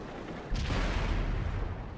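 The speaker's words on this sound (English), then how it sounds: "The artillery hits him" Artillery shell slamming into a tank in World of Tanks on Xbox 360: a sudden heavy boom hits at mid-clip and rolls into a sustained loud rumble that holds to the end.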